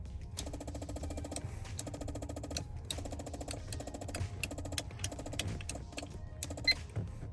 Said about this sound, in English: every button I push, there's just a clicking underneath the seat